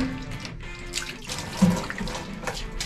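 Clear water flowing at a mountain spring, a steady, close, fairly loud rushing and trickling stream with no one talking.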